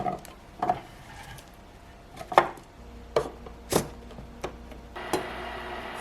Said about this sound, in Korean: 브로콜리는 작은 꽃송이로 자르세요.